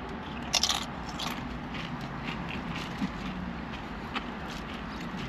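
Crisp crunching bites of tortilla chips at a Rubio's Coastal Grill restaurant, a few sharp crackly crunches close up over a low steady background hum.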